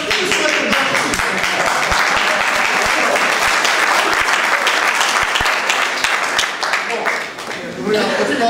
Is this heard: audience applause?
yes